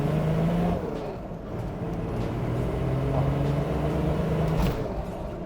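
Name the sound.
old turbo car with 200 horsepower driving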